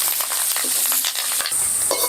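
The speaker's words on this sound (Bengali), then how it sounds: "দিয়ে আমি এখন ভালোভাবে ভেজে নেব" Chopped garlic, green chili, ginger and curry leaves frying in a pan, a loud continuous close sizzle with spatula stirring scrapes, no voices.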